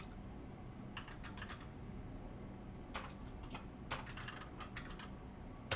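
Someone types on a computer keyboard in quick bursts of clicking keystrokes with short pauses between them, close and fairly quiet, and no one speaks.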